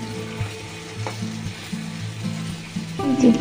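Prawns fry in a pan with a steady, fairly loud sizzle and occasional stirring scrapes, rising to a brief louder burst near the end with no talk.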